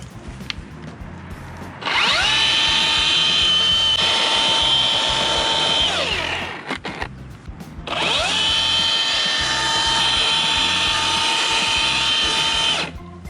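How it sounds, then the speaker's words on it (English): A power drill boring into tree roots, whining loudly at a steady high pitch for about five seconds, dropping away briefly, then running again for another long stretch, with faint background noise between bursts. "go ahead and put the drill on it"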